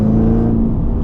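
Chevrolet Camaro ZL1 1LE with an aftermarket intake, a loud close engine roar carrying a steady high supercharger whine that fades partway through the short burst.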